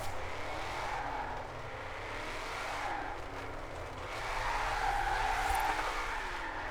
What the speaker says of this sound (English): just pop the clutch and spin the car.